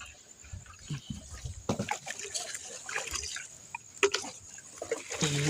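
Water sloshing and splashing from a container being tipped out, irregular pours and trickles close by, with faint talk in the background at an outdoor cooking spot.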